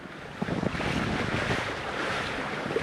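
Mistral wind roars across the microphone while waves wash steadily around a small sailing catamaran off the coast of Croatia, making a dense, continuous rush with faint knocks of water against the hull.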